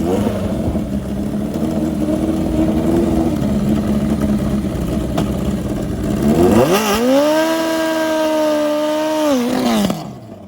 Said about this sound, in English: Let's watch this KZ pit bike rip down the track.